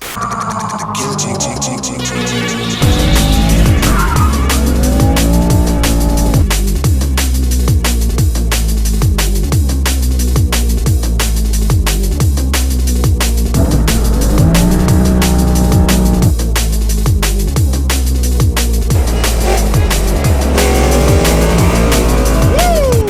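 A BMW M3 drifting on a track, its engine revving hard and its tires squealing in a loud, continuous roar with a fast pulsing beat, while a voice talks over it.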